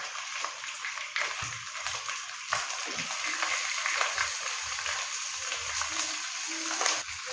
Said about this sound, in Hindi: और यहाँ पे पंजों की हमने अच्छी तरह भुनाई कर लेनी है